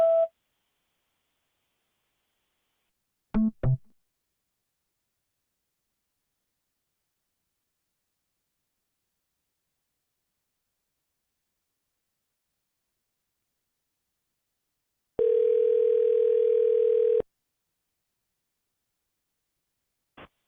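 A single steady telephone voicemail beep sounds for about two seconds after a long near-silent stretch, clean and fairly loud, preceded earlier by a couple of brief clicks.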